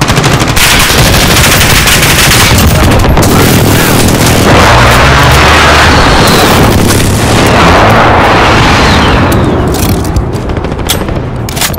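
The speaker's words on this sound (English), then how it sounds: "Enemy precision airstrike." An enemy precision airstrike in Modern Warfare multiplayer: loud, continuous machine-gun fire and rapid gunshots mixed with heavy booming explosions, sustained without a break and very close.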